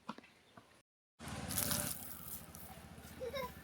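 Water poured over a child's head during a bath to rinse off dust, a close gushing splash starting after a brief silence and running steadily with light rattles.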